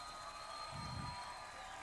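A faint audience claps and cheers for vice prefect Carlos Serrano at a Guayas provincial government event, a steady low wash of clapping with no voices over it.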